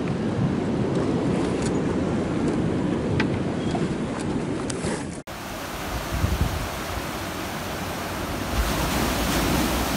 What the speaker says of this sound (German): aber die Wellen sind doch sehr stark.